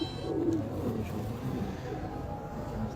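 A pigeon cooing softly nearby in short low rolling phrases, with a faint murmur of background noise.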